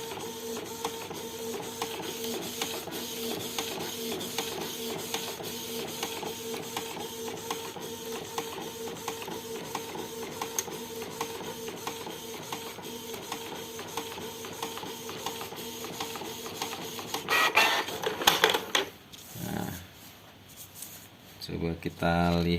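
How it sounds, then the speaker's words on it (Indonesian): A Canon IP2770 inkjet printer prints on PET film with a steady mechanical whir and hum and a faint repeating rhythm, then clatters and shuffles near the end. "kita cetak di pet film."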